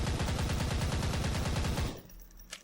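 A Tommy gun from a WW2 weapons pack fires a loud, rapid, continuous burst for about two seconds, then stops abruptly, leaving a faint tail and a small click.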